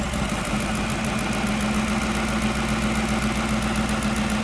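A 5.4 engine idles roughly with its camshaft phaser held fully retarded, giving a close, steady mechanical drone with a fast, uneven knocking pulse throughout.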